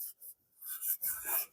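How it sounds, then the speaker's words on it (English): A wire brush scrubs rust off a motorcycle part by hand, with no power tools, giving short rasping strokes in separate bursts that grow denser and louder toward the end, fairly close. "This is just a wire brush,"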